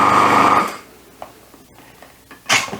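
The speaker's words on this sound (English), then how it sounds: "I'm just gonna scrape the sides a little bit and keep on blending." A food processor whirs loudly while blending soft ingredients for white miso paste, then cuts off, leaving quieter scraping and knocking sounds before the motor briefly starts up again.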